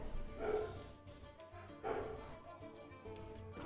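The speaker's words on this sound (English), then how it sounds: "Just in time for the dogs to start barking." Dogs bark in the video game Pillars of Eternity, with two short bursts of yapping set against quiet background ambience and faint talking.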